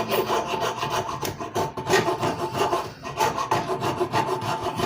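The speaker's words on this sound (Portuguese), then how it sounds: "Agora com uma broca, com uma lima arredondada, faço-lhe aqui um acabamentozinho." A rounded file rasps against a wooden part of a homemade angled bench vise for Portuguese guitar work, in steady back-and-forth strokes, close and fairly loud throughout.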